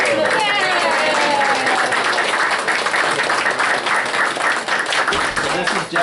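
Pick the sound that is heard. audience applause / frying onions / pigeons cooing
audience applause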